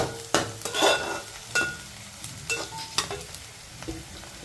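Onions and pumpkin pieces frying in a pan, stirred with a utensil that scrapes and knocks against the metal in irregular bursts over a steady close sizzle, with no talking.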